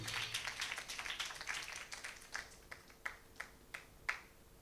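A church congregation at a Sunday service claps for Jesus, a dense round of applause at first that thins into a few sparse, separate claps before stopping.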